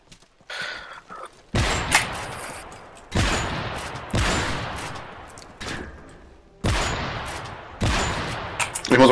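Sniper rifle shots ring out in a Call of Duty Modern Warfare 3 match, several loud sharp cracks spaced a couple of seconds apart, each trailing off in a long echoing decay.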